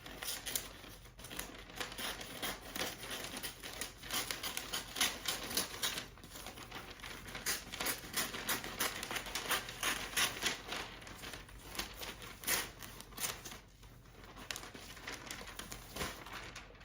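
Scissors cutting through Christmas gift wrapping paper, steady crinkly snipping and rustling that runs continuously and close throughout, with no talking.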